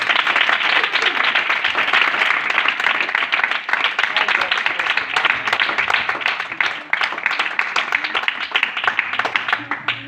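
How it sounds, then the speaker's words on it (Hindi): Church congregation bursting into vigorous applause, a steady wash of many hands clapping for several seconds with scattered voices mixed in. "तालियां।"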